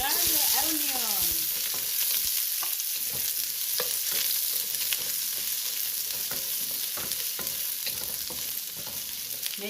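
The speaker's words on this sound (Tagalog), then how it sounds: "I'm going to saute the garlic onion." Garlic and onion sautéing in a pan for pineapple adobo, a steady loud sizzle with close scraping stirs and utensil clicks throughout, no talking.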